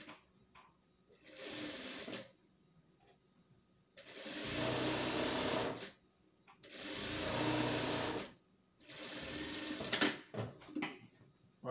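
A sewing machine stitches Oxford fabric strips for a patchwork rug, running in four separate bursts of steady, close, buzzing whir, each lasting a second or two, with quiet pauses between them.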